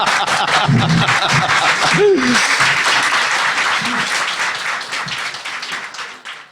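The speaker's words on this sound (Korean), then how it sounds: "박수!" Audience applause and clapping at the close of a live political talk show, a dense crowd patter filling the room and slowly fading, with a few scattered voices and light chuckles mixed in.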